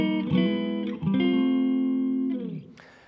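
An electric guitar plays sustained chords that slide by chromatic half steps, the opening of a song, with a lightly driven tone that is loud and close and rings out before fading.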